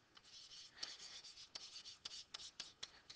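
A pen scratches out a handwritten note during a maths lesson: quick, scratchy strokes in short irregular bursts, close and quiet, with no voice.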